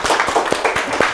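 A group of people claps hands in a short, lively burst at a youth entrepreneurship lecture, several close, uneven claps over about a second with no talking.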